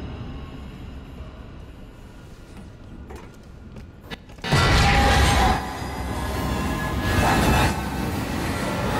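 A train rushes past in the sci-fi survival game Alien: Isolation, a sudden loud rumbling surge of rolling wheels and metallic clatter that swells, dips and swells again, with no voices.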